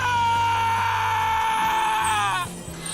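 Character screaming in the Crisis Core Reunion trailer, a loud sustained high scream over music that wavers and then cuts off abruptly near the end.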